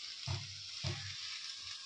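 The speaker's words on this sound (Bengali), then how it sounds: "এখন ফুলকপি আলু ভাজা হচ্ছে" Cauliflower and potatoes frying in a pan, a soft steady hiss of hot oil with two low thumps of the pan or spatula, quiet and close.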